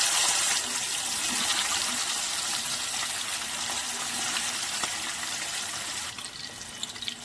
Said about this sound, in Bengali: এবার কড়াতে তেল নিয়ে তেলের মধ্যে আমি ইলিশ মাছগুলো একটু ভেজে নেব হালকা করে।